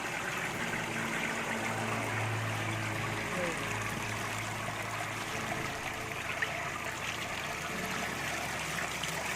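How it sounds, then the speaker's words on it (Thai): Water runs steadily from an automatic swirling-water bean sprout growing tank, a continuous trickling, splashing flow heard close and evenly throughout, with a low machine hum underneath. "น้ำก็จะระบายดี"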